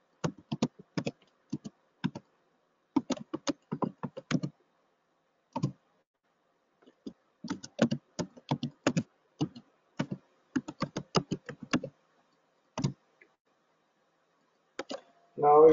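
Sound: typing a password on a computer keyboard

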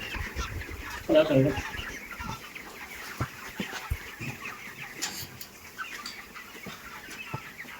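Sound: poultry chickens clucking

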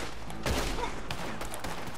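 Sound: gunshot from a scoped rifle in the video game Red Dead Redemption 2

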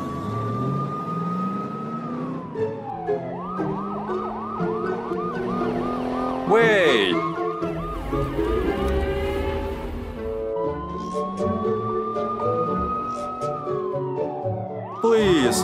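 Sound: ambulance siren

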